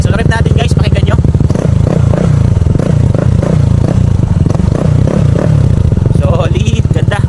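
A Honda PCX 160 scooter fitted with an aftermarket silencer revs hard, with a loud, dense exhaust roar that pulses up and down in quick repeated throttle blips close to the listener.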